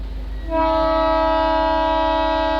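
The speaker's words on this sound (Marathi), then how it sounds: "आता डिपार्चर विसल झालेलं आहे सलगरे रेल्वे स्टेशनवरून" At Salgare railway station, the Kolhapur–Kalaburagi Superfast Express sounds its departure whistle: a single loud, sustained, rich-toned blast that starts after about half a second and holds steady to the end, with no voices.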